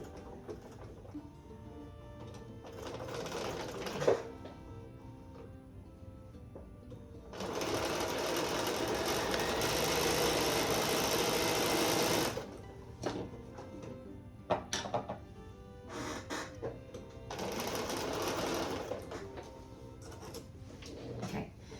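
A sewing machine stitches a fabric seam in several bursts: short runs at first, then a long steady whirring stretch, then brief stops and starts and another sustained run, close and fairly loud.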